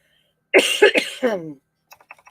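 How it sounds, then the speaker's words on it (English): A few sharp, close coughs in quick succession, followed by soft rustling and clicks. "Sorry, I started to cough again."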